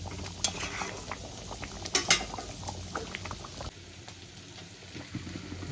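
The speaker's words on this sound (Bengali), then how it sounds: "জলটা দেখো টকবক করে ফুটছে" A pot of boal fish curry bubbles and boils steadily on the stove, a soft continuous simmer with occasional sharper clinks of a utensil against the pot.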